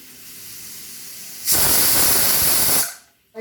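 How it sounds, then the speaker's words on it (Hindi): A pressure cooker holding chicken lets out a loud, close burst of hissing steam lasting over a second before cutting off, after a quieter stretch of low kitchen background. "चिकन को कुकर में डालने के बाद 3 सीटी लेना है।"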